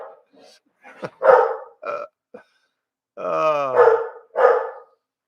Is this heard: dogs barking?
yes